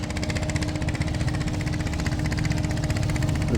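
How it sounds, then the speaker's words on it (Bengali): A motorized trawler boat's engine at a busy ferry ghat in Barisal throbs in a steady, close, evenly pulsing drone with no talk over it. "একটি ট্রলারের শব্দ টের পাওয়া যাচ্ছে"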